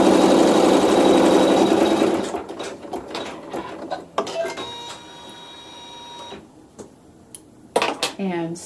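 A sewing machine runs steadily for a couple of seconds stitching a pleat in a bubble quilt, then stops, followed by scattered clicks and handling noises with a voice speaking over them.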